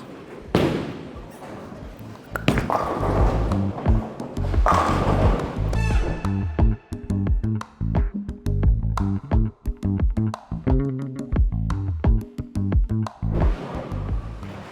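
A bowling ball rolls down the lane at a bowling alley and strikes the pins, giving a rumbling roll and then a loud clattering crash. Alley noise follows, with thumps and rattles from other lanes and some distant voices.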